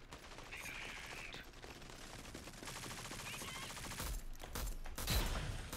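Bursts of rapid automatic gunfire from the Rogue Company video game crackle in quick succession, with heavier shots near the end, under a player's voice talking.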